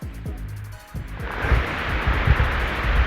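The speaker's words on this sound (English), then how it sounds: "you can listen to the water running" Salt Spring Beck, a stream in woodland on Whitwell Moor in November, runs with a broad, rushing wash of water that builds louder and stays close, alongside some low thumps near the start.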